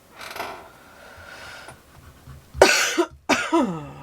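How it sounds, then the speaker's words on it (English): Two harsh, close coughs break out in quick succession after a stretch of quiet shuffling. "Sorry about the cough."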